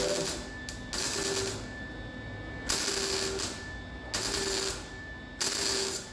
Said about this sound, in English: now I have it on pulse weld